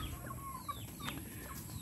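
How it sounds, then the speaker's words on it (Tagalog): Turkeys and chickens on a farm giving scattered soft clucks and short calls over a steady background hum, faint and somewhat distant, with no talk. "yan po yung mga pabo natin, yung mga manok."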